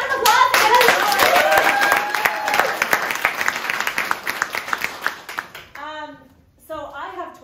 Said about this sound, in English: Right, round of applause.